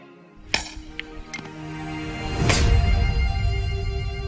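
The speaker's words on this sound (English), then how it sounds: "I'm ready to split it open by hitting very hard on each wedge with a big sledgehammer" A sledgehammer strikes iron wedges to split a stone block in Age of Empires 4, several sharp metallic clinks ringing out, then a heavier crack followed by a rumbling rush of breaking stone.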